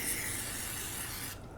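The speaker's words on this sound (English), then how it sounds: "spray a little bit just around the inside of the upper receiver" A single steady hiss of aerosol cleaner sprays into the upper receiver of an AR-15 Colt M4A1 SOPMOD Block 2 clone, close and even, then cuts off sharply.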